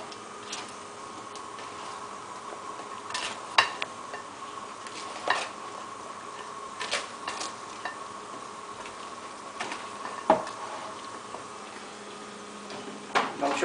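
Bread being stirred and mixed in a bowl for bread pudding, faint soft scraping with scattered light taps and clinks of a utensil against the dish over a quiet steady background.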